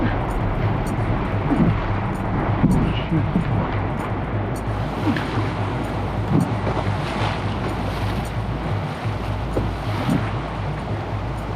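River rapids rush and churn through a canyon on a Canadian sub-Arctic canoe expedition, a loud, continuous roar of surging water mixed with heavy wind buffeting the microphone.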